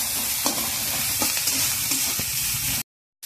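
Onions frying in a pan for a prawn paste, a dense, loud, close sizzle with scraping stir strokes throughout, ending abruptly in silence.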